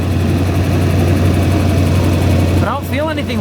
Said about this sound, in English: Fan is going crazy